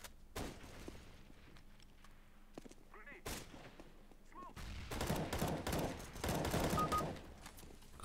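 Counter-Strike: Global Offensive gunfire cracks in sharp reports and bursts, building to denser rattling shots toward the end, with a faint voice in the background.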